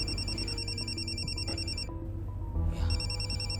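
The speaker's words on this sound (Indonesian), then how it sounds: "Ya, telepon tuh." A telephone rings with a steady, repeating electronic tone pattern, fairly close and clear over a low indoor background hum, with no talking.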